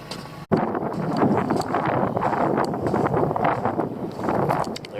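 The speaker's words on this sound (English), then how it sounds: "There is a little bit of wind actually." Wind gusts over a foggy sea beside a lobster fishing boat, a loud, steady roar of air buffeting the microphone that builds and eases without a break, following one sharp knock at the start.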